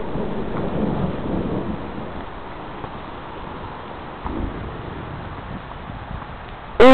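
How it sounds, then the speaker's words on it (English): Continuous low rumbling thunder rolls through a tornadic thunderstorm, heard from outdoors with steady rain-like hiss and a few louder swells, ending in a sudden sharp sound. "It's just constant thunder."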